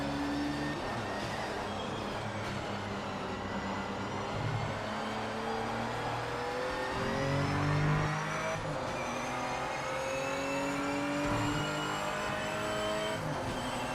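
Race car engines in the sim racing game Project Motor Racing howl steadily through rising and falling revs with gear changes, several cars running close together in a pack, with faint tyre noise and no talking.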